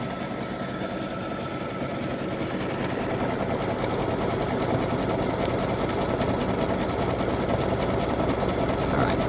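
A sewing machine stitching a Christmas bow directly onto a T-shirt runs in one loud, continuous, close-up mechanical drone with a fast rhythmic chatter and no talking.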